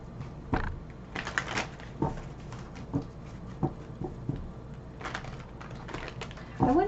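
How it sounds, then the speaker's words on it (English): A deck of oracle cards is shuffled by hand up close, with soft irregular riffles, taps and slaps coming in scattered bursts over a quiet room, and no one speaking. "Let's do a quick shuffle"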